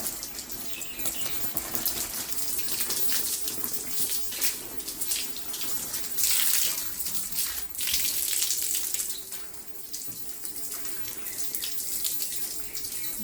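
Water poured steadily over potted plants to rinse dust off them, a continuous splashing gush close by with slight surges, and no talking.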